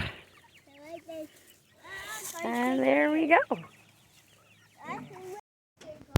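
Chickens let out of a backyard chicken house cluck and squawk close by, a busy burst of calls with a loud rising squawk in the middle, while a person talks briefly before and after.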